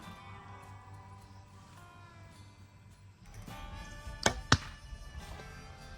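Arrows from a compound bow at 20 yards striking the target, two sharp close thwacks less than a second apart after a quiet, humming lead-in.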